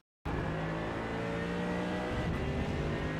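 A Mercedes AMG GT3 EVO in iRacing at Watkins Glen pulls out of a corner under throttle, its engine note rising steadily and loudly from a sudden start, with no talking.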